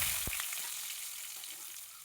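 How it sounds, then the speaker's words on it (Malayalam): Sliced onion fries in hot oil with popped mustard seeds in a pan for a Kerala-style okra tamarind curry, giving a faint, steady sizzle with one brief tap near the start. "കടുക് പൊട്ടിക്കഴിയുമ്പോൾ ഒരു സവാള അരിഞ്ഞത് ചേർത്ത് കൊടുക്കുക."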